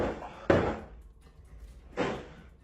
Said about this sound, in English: When he shuts the door again, a loud banging is repeatedly heard